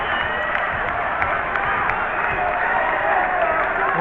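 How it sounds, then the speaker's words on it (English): A wrestling crowd at an Atomic League pro wrestling show in Dayton cheers and roars continuously, a loud, dense wall of voices with scattered claps and shouts that holds steady throughout. "The fans go wild."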